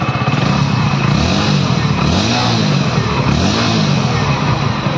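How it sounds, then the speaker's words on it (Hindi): Hero Splendor+ 01 Edition 2024 motorcycle, E20-compatible, revving with a loud, steady exhaust note, low engine pulses rising and falling in close repeated surges with no talk over it. "तो कुछ इस तरीके का है गाइस बाइक का एग्जॉस्ट नोट।"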